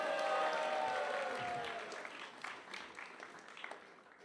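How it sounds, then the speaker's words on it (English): An audience applauds at a gathering, the clapping loud and dense at first and then thinning and fading over a few seconds. "Let's give Maharaj a big round of applause for being here."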